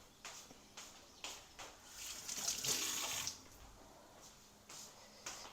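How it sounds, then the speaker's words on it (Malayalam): Chopped vegetables are rinsed under a running kitchen tap in short, quiet splashing bursts, with a longer, fuller gush of water midway. "കഴുകിയിട്ട് വരാം."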